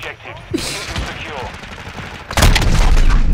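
Gunfire bursts in Modern Warfare II multiplayer gameplay, including a shotgun blast, with a loud heavy burst of shots in the final second following game effects and voices talking over the action.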